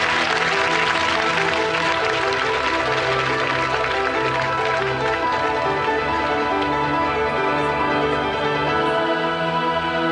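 A studio audience at a British comedy television show applauds steadily and loudly for about ten seconds, a dense even wash of clapping with a faint musical tone underneath.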